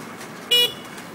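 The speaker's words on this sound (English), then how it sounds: "everybody beeping at each other." One brief car horn toot sounds amid crowded stop-and-go traffic with bikes and cars at a left-hand turn, a short sharp beep over a steady low road rumble.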